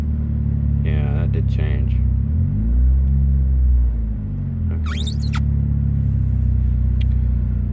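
A car engine at idle gives way to a brief throttle increase, the low rumble swelling in pitch then settling back, steady and close under a man's speech.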